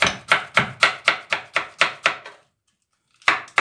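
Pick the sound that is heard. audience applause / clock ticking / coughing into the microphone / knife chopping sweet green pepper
knife chopping sweet green pepper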